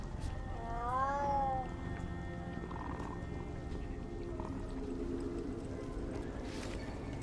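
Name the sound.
cats meowing in video game Dragon Age: The Veilguard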